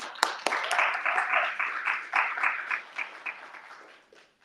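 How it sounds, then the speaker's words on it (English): Applause for a speaker invited to the stage at a freethinking society event, from a modest audience: a few sharp opening claps swell into brisk clapping, then thin out and fade within seconds. "So round of applause, please."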